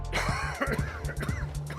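A short harsh cough with a groan, followed by brief vocal grunts and effort sounds in a Hitman video game, close and fairly quiet.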